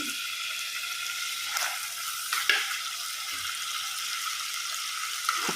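Whole fish frying in oil with ginger, green chilli and raw spices, a steady close hiss of hot oil with a few soft clinks, no one talking.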